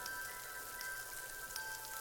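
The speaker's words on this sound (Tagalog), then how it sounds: "Ilang araw nang umuulan" Animated rain patters steadily on a house roof, a soft, even hiss of drops with a few brighter taps standing out, no voices.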